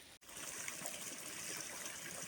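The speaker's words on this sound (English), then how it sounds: "It's nice to see running water again. It's quite foamy down there." A foamy forest stream running in the rain, a steady close rush of flowing, trickling water after a brief dropout at the start, with no talk.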